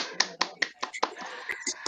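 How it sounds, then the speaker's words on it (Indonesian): Sharp hand claps from a group ring out in a quick, slightly uneven series of about ten, close and crisp. "tepuk tangan kita semua ya"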